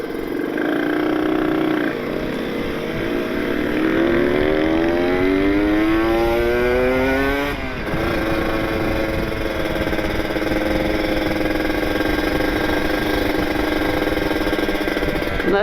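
A Kawasaki Ninja RR motorcycle engine, stuck in traffic and running hot, idles steadily, climbs in a smooth rev for a few seconds, then drops back and holds a loud, close idle throughout.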